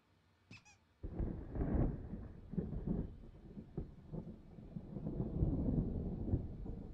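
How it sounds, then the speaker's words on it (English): Thunder from an approaching storm in the Alan Wake video game rolls in as a deep, sustained rumble that swells and recedes over several seconds, following a brief high squeak at the start. "There's a storm coming. Oh, what a storm."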